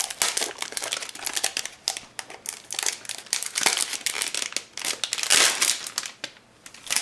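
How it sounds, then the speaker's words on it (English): A rubber stamp set for card making is pulled from its plastic package, giving close, continuous crinkling and crumpling with dense crackles and rustles throughout. "So let me pull this out of the package."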